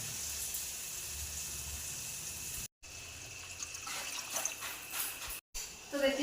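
Water poured from a vessel into a pan of fried, cooked-down spice masala for a fish curry, a steady liquid rush running several seconds with two brief cuts, a voice faintly present.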